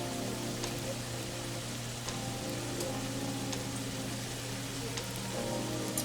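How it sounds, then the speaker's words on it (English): An egg fries on one side of a hot pan while cauliflower fried rice is being made, giving a steady, close crackling sizzle with a low, even hum beneath and no talking. "I'm going to add my egg in and just kind of let that fry on one side of the pan here"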